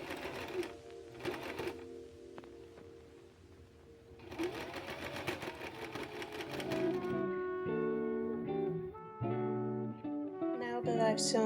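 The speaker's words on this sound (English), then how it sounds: "I'm just going over it with my serger and full seam." A serger runs a seam along fabric bloomers, starting with short bursts and then sewing in a steady, close mechanical rattle that speeds up and slows with pitched motor whine.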